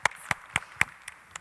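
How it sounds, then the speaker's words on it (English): Six sharp hand claps in a loose, slowing rhythm, close and fairly faint, with no other sound between them. "I'll clap for that."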